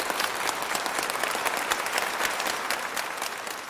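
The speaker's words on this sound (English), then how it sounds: "So let's have a round of applause for those frontline workers and for JF." An audience claps steadily for frontline workers at a talk, a dense, continuous round of applause filling the room without pause, heard alone at close range.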